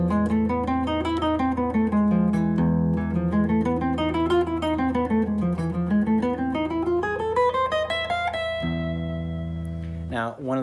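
An electric guitar plays the Byzantine scale in E over a sustained low E pedal, a smooth melodic line rising and falling for about eight seconds before settling onto a held chord.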